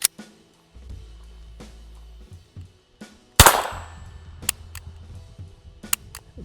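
Umarex Beretta M9 .22LR pistol fired once with a sharp, loud crack and ringing decay, surrounded by several small mechanical clicks and handling clatter at close range.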